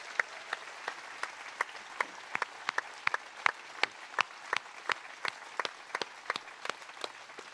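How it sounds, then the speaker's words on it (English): A modest audience claps at a talk, each sharp clap standing out distinctly in an irregular, sparse patter that stays fairly quiet and even throughout. "let's also give a round of applause to those people in the Defence Forces"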